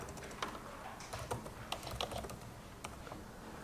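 Rapid, uneven keystrokes on a special computer keyboard, clicking steadily at close range with short pauses, no voices.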